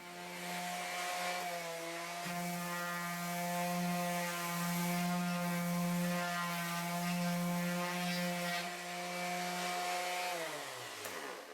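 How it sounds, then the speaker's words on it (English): Random orbit sander running steadily on wood for a platform bed, a loud motor whine with rising and falling tone, then winding down in pitch as the pad lifts off and spins freely near the end. "When these random orbit sanders leave the material, this disc begins to spin"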